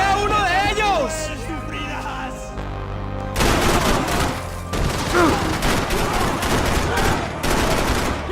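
Glock pistol fire in the Max Payne 3 video game, dense bursts of loud gunshots and rapid fusillades filling the second half, following a stretch of game dialogue and music.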